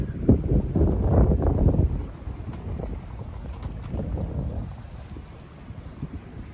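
Wind buffets the microphone aboard a sailboat running downwind in 12 to 13 knots off the Turkish coast, gusty and loud at first, then easing to a steady rushing with water noise.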